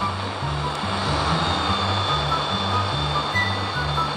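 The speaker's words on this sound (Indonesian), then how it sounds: "Pesawat jalan di atas di jalan raya, guys." A propeller airplane engine drones loudly in a video game, a steady rhythmic pulsing hum that runs throughout with no speech.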